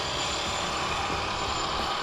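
A 12S Arrma Kraton XL RC truck's electric motor runs at high power, a steady loud whine with broadband roar, continuous and close throughout with no pauses.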